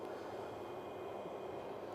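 A 1.5 kW modified-sine power inverter in a DIY off-grid setup runs with a steady, fairly quiet whooshing hum and a thin constant whine, with no talking.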